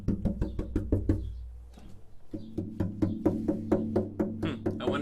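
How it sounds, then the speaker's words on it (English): Light knuckle taps on the wooden side of a cello come in a quick, uneven series of close, hollow knocks, pausing briefly before a denser run of taps, with no voices. "if you tap around the side, if anything suddenly sounds higher pitched"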